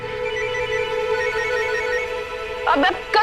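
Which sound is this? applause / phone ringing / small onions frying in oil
phone ringing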